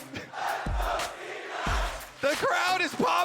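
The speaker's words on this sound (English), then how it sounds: "The crowd is popping off" An esports arena crowd at the LoL Worlds 2022 group stage, T1 versus Cloud9, roars and cheers in bursts, with deep thumps and loud overlapping shouts and whoops toward the end.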